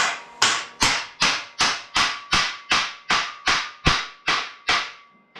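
Metal is hammered flat on a welding table while working on Model A subrails: about a dozen sharp, ringing blows at a steady, even pace, each with a bright metallic decay, loud and close.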